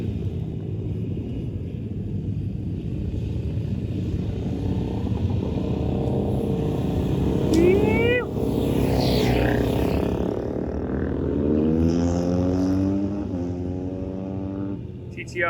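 Motorcycles ride past on a supermoto track, a continuous engine rumble with a rising and falling passing whine, heard under someone talking.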